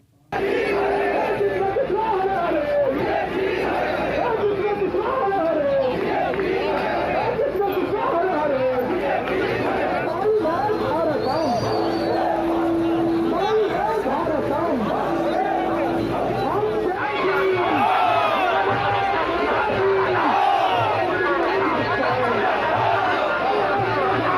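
Large political procession crowd on a narrow road in Purba Medinipur, a dense continuous mass of voices chanting and shouting together, loud and sustained throughout with overlapping calls.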